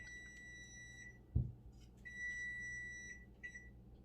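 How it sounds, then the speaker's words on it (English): A kitchen timer sounds while a peach cobbler pound cake cools, giving repeated high electronic beeps in short bursts with a soft knock between them, faint in a quiet room and without talk. "That's my timer."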